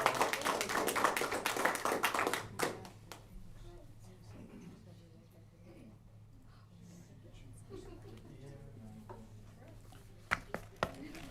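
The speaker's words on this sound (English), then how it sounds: "Again, let's give them a round of applause." Applause at a regular municipal board meeting, a short burst of clapping at the start that quickly dies away, leaving quiet room tone with faint murmuring and a couple of sharp taps near the end.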